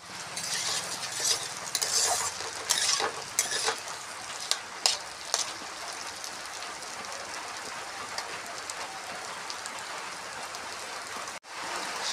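Onions and eggplant fry in a pan with steady close sizzling and occasional stirring scrapes, and rain patters continuously in the background.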